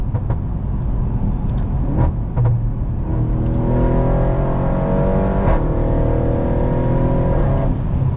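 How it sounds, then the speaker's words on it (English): A 4-liter twin-turbo AMG V8 with a straight-pipe exhaust, steady and loud, its engine note rising gradually as it revs. "this engine is a 4-liter twin turbo V8 as well"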